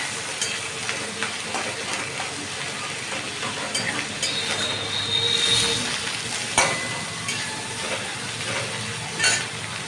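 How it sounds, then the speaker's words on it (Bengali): Boiled peas stirred in a pan with rendered chicken fat for ghugni, a continuous close sizzle with repeated scraping and stirring strokes of a spatula against the metal. "এবার এটাকে আমি ভালো করে নাড়াচাড়া করতে লাগলাম"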